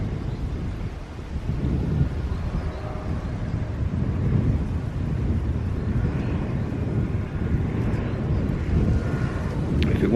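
Grass cutter running outdoors in wind near a large cut-back tree, a continuous rumbling drone mixed with heavy wind buffeting on the microphone, steady and loud throughout.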